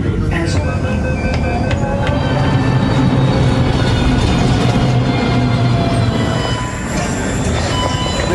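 A Delhi metro train running, with loud continuous rumble, rail clatter and faint wheel squeal under a voice speaking over it throughout.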